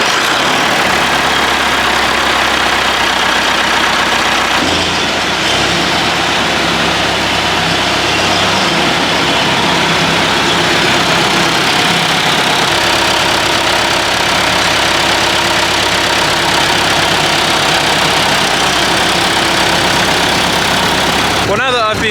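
A classic tractor engine idles close by with a steady low rumble and slight knocking beat, holding a constant loud level throughout with a brief change partway.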